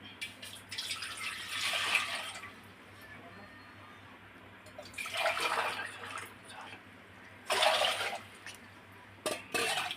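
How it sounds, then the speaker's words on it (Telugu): Water poured from a pot-sized vessel into a cooking pot on a lit stove, in three separate splashing bursts with quiet pauses between them and a faint steady hum underneath. "రెండు లోటాలు వాటర్ వేసిన"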